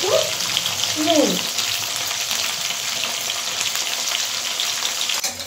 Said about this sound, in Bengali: এই দেখুন বন্ধুরা, আলুটা একটু ভাজা হয়ে এসছে, এর মধ্যে আমি এই টমেটোগুলো দিয়ে দিলাম।